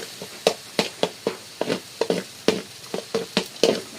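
Garlic fries in hot oil with quick, rhythmic scraping and tapping strokes of stirring over a soft sizzle, steady and close.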